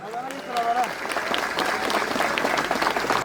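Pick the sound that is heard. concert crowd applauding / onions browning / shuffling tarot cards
concert crowd applauding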